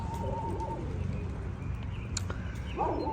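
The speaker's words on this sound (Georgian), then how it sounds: "ჩიტების ხმა" Birds, likely pigeons or doves, coo and call in a city park, with soft calls at the start and end over a quiet, steady outdoor background.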